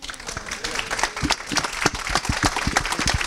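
A young football team cheering and clapping at a Celtic FC book launch, a burst of rapid applause with shouts from a small group nearby.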